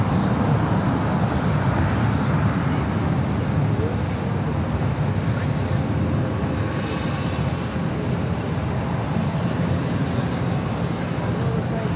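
A Lufthansa Boeing 747 taxis at LAX, heard as a continuous loud jet engine rumble and roar with broadband hiss, steady throughout.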